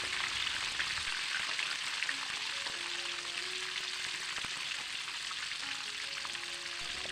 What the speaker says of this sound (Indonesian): pertama saya goreng tahu isi yang versi original terlebih dahulu ya